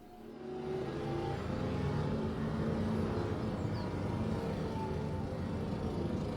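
A 2020 Hirochi SBR4 eSBR 800 electric car, rated at 988 hp, drives with a steady, loud, broadband whine and rumble like a jet that holds evenly for several seconds after a quick rise, with no speech.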